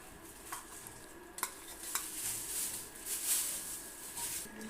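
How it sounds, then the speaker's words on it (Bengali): Semai vermicelli with condensed milk is stirred in a pan, with a few light clicks of a spoon against the metal early on, then a quiet, building sizzle and scraping. "তারপর ভালো মতো নেড়ে দিব।"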